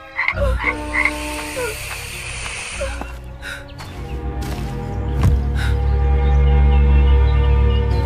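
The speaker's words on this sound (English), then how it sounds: "The room filled with croaking and hissing" Frogs croaking loudly and close for a fairytale scene, a dense chorus of repeated rasping croaks that builds steadily into a thick, overlapping din.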